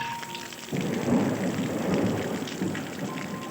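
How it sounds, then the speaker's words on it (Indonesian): A thunderstorm with rain: a low rumble of thunder rolls in and builds, over a steady hiss of falling rain, moderately loud and with no voices. "Di luar turun hujan. Guntur menggelegar."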